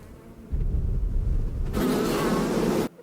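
A bee buzzes in a scene from the film Blade Runner 2049. A low rumbling drone swells into a loud, close, broad buzz that holds for about a second before stopping sharply.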